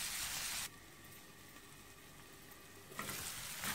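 Tomatoes sauté in a pan for egg pasta, giving a soft steady sizzle and hiss, with a brief louder stir at the start and end.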